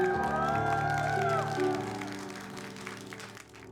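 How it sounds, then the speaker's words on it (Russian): Applause and cheering from a song-contest semifinal audience as a singer comes on stage, loud and steady at first, then thinning and fading as music begins. "Аплодисменты, аплодисменты!"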